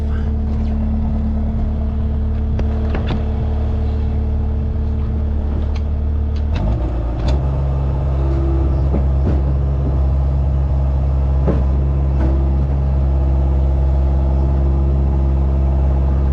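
Truck engine running steadily as it is driven backward off a trailer, a loud continuous low rumble with a shift in tone partway through and scattered clanks over it.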